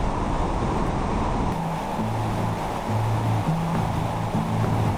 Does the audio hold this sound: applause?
no